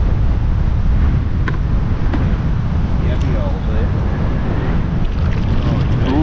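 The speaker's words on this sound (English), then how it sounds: "Oh, the wind though. Another windy day." Wind buffets the microphone in a steady low rumble while yabbying, with water and boat noise underneath and voices talking now and then.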